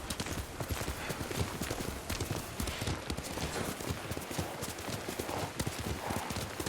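Hooves clop in a quick, steady trot on hard ground in the video game Ghost of Tsushima, rhythmic and close, with faint background ambience.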